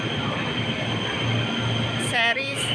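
Interior ride aboard a CRRC Sifang CLI-125 KRL commuter train operated by KAI Commuter: a steady rolling rumble and hum, then a short rising wheel squeal near the end, with faint voices underneath.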